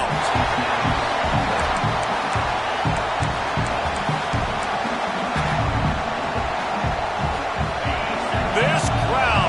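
Stadium crowd at a Penn State at Michigan college football game, a dense continuous roar of cheering with sharp claps and whistles scattered through it, loud and sustained throughout.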